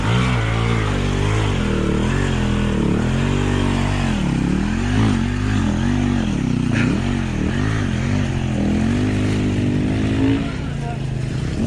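A motorcycle engine revs loudly and continuously on a mountain-bike trail ride, the pitch rising and falling in repeated surges, with voices talking over it throughout.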